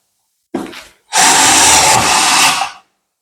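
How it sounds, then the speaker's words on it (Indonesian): A Beckum EB2 12V cordless drill driving light steel roofing screws, a short first whir and then a loud, steady high-pitched spin of about two seconds before stopping, close to the mic. "pemasangan baut baja ringan atau baut roofing cukup mudah saja ya"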